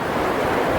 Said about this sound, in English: when you're out here seeing these waves and stuff